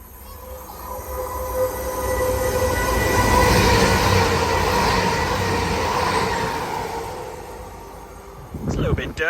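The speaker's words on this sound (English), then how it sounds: "let's wait for this next train to come through" A passenger train rolls through Belper station, its rumble swelling to a loud, sustained roar with wheel squeal and metallic ringing tones, then fading away before a short burst of nearby handling noise at the end.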